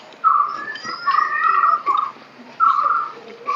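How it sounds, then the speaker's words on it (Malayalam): A forest bird in a wooded area near Vazhani Dam, Kerala, gives a series of clear, whistled calls, rising and falling in short phrases against a quiet background. "കാടുള്ള സ്ഥലത്ത് ഉള്ള പക്ഷിയാ തോന്നുന്നു ഇപ്പൊ കരയണത്"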